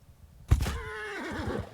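A wounded warhorse in the Mount and Blade 2 Bannerlord battle gives a loud whinny that starts with a sharp burst and trails off into a quavering, wavering neigh, with no voices over it.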